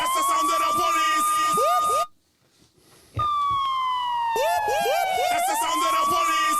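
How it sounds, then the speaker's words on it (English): A police siren wails loudly and close, its pitch sweeping up and down, cutting out briefly for about a second before returning. "That's the sound of the police."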